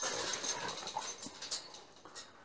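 Kangal dogs pant and whimper softly in short, uneven bursts, heard quietly and close by without any talking.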